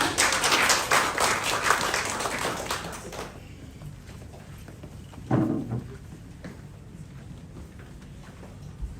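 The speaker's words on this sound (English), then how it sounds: "a big cheer for Al, everyone" Applause at a graduation ceremony in Samoa for a graduate, a crowd clapping loudly and densely for a few seconds before fading to scattered claps and quiet room noise.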